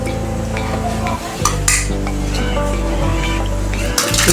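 Whole spices, including black and green cardamom and dried red chillies, dry-roasting in a pan for garam masala powder, with steady scraping and stirring and metallic clinks of a spoon against the pan, close and continuous.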